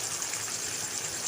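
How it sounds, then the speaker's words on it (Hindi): About one cup of water poured into a pan of browned ingredients while cooking halwa puri and murgh chanay, heard as a steady close splashing, trickling stream with no talk. "अब इसमें तकरीबन 1 कप हम पानी ऐड करेंगे।"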